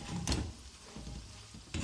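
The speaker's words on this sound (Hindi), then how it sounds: "ये देखें इस तरह फ्राई करें। अब ये फ्राई हो चुके हैं।" Food sizzles steadily in a pan, with a couple of louder scraping stirs near the start and end.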